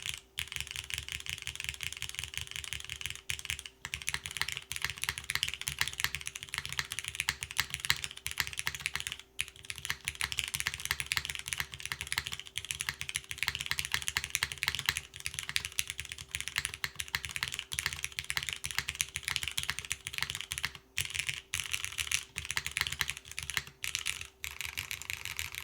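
Continuous fast typing clatters on a Shelby65 mechanical keyboard fitted with foam underneath, a dense run of close key clicks and thocks with brief pauses and no voices.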